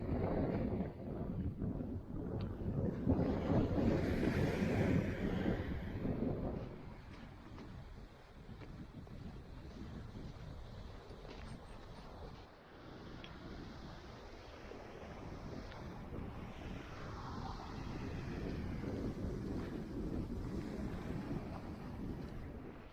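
A cold wind blows across a beach near the Port of Felixstowe, gusting louder in the first few seconds and then settling into a steady, faint rush with soft surf underneath.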